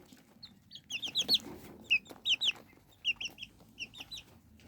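Tiny serama bantam chicks, about 24 days old, give close, high-pitched cheeping and peeping calls in quick clusters of two or three, repeated steadily over a quiet background.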